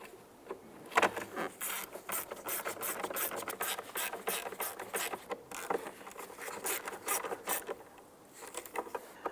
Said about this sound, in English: let's go ahead and reinstall our 3 Torx bit screws